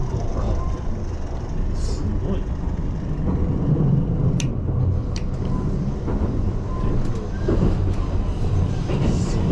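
A Kintetsu Ise-Shima Liner sightseeing train pulls out of Iseshi station, heard from inside the carriage as a steady loud rumble of wheels and motors with a few faint clicks and no talk.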